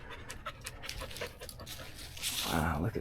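Keiko the dog pants in quick, breathy bursts close by, growing louder toward the end, with faint voices in the background.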